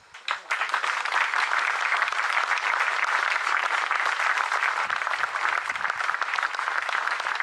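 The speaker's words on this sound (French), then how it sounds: "Tu mérites un grand applaudissement." Steady, dense applause from a large audience at a farewell ceremony, beginning with a brief onset and then holding loud and even throughout without letting up.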